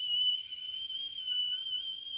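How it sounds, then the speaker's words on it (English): A person whistles a single high, sustained note that wavers slightly in pitch, clear and close against near silence. "stop whistling"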